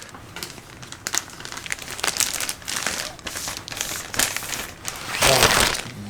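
Plastic wrap crinkles and crackles as a comic omnibus is unwrapped, in irregular close bursts that swell louder toward the end, with no talking.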